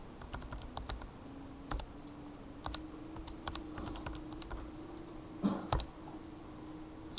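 Numbers tapped out on a calculator keypad, a run of light plastic clicks in irregular bursts, quiet and close, with a faint steady hum behind.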